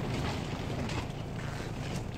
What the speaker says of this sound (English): I don't know if you can hear this wind